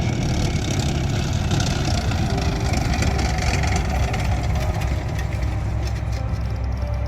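An M113 armoured personnel carrier's engine drones steadily at close range, a loud, constant low rumble as the tracked vehicle drives in and parks up.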